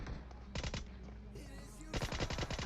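Heavy automatic gunfire in PUBG Mobile, loud rapid bursts of shots at the start and again at the end, with a quieter stretch of distant firing between them.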